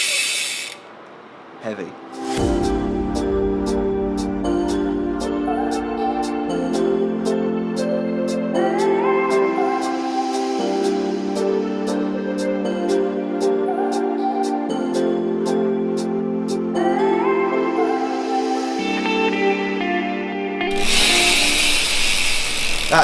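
Rapid, loud ratchet clicking from a SRAM Eagle cassette freewheel hub on an e-bike rear wheel, spinning in sustained runs with brief pauses and a few spoken words.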